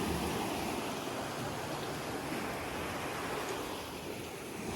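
Sea waves wash onto Guhagar beach in a steady, broad roar of surf, a continuous rushing wash that swells and eases slightly, with no voices.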